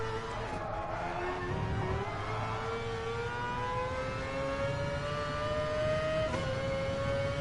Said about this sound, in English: I mean, you could just hear that roar from the engine.